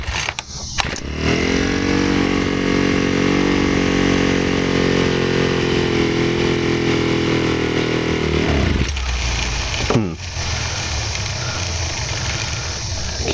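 A Ryobi S430 4-cycle string trimmer engine runs loud and steady for several seconds, then bogs down and sputters when throttled, stumbling unevenly as it struggles to stay running.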